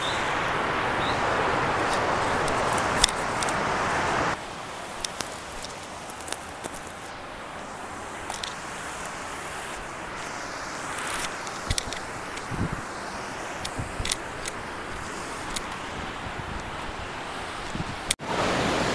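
Water from the Duduma waterfalls in Odisha gathers into a stream and runs downhill, making a steady, broad rushing roar throughout, with a little wind buffeting and occasional rustles.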